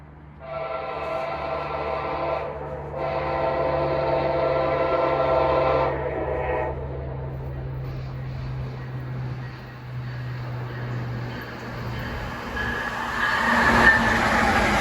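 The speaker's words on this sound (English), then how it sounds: "Amtrak 66 rolls northbound with a Charger leading the way." Amtrak 66, a northbound passenger train led by a Charger locomotive, sounds a long multi-tone horn for several seconds, then rumbles steadily past nearby, its rolling noise swelling again toward the end.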